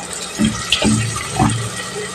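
Water sloshing and splashing in short bursts as raw chicken is rinsed by hand, close and moderately loud.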